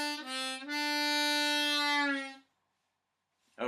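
A single 2 draw note on a harmonica rings out clear and close, a short breath break then a sustained reedy tone that fades away, followed by silence.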